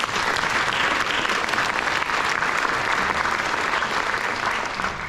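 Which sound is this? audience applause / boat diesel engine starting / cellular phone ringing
audience applause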